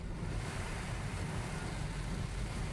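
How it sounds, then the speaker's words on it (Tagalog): Strong wind roars steadily and loudly close by, a dense unbroken rush with low buffeting and no voices over it. "itutumba ka ng hangin"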